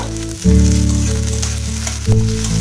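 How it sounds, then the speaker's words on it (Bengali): Onion frying in a pan for an egg masala omelette curry gives a steady close sizzle that swells louder about half a second in, with a low steady tonal hum running underneath throughout. "লাল লাল করে পেঁয়াজটা ভেজে নিতে হবে"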